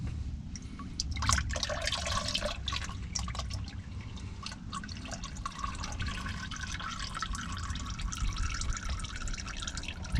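Motor oil drains from a Honda Fit into a drain pan during an oil change, a continuous close trickle with scattered drips and small splashes that runs on its own, without talk.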